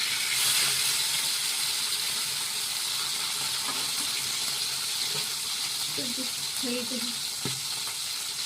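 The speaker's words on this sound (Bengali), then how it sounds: "খুব একটা বেশি ভাজবো না, মোটামুটি ভাজবো।" Large fish pieces frying in oil in a small kadai (wok), a steady close sizzle and hiss throughout, with a faint voice and a few soft clinks near the end.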